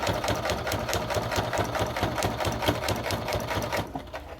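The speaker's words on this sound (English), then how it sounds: "make sure that you backstitch at the beginning and the end at least 2 or 3 times" A sewing machine stitches fabric back and forth in a steady, rapid mechanical whirr, running continuously close by with no talking.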